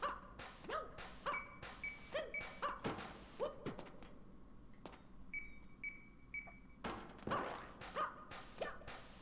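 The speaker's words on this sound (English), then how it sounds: "It's all you hear throughout the entire level, those blocks changing." Switching blocks in a Super Mario Maker 2 level beep in a steady run of short, clear electronic tones, repeating in pairs over busy clicking and thumping game sounds.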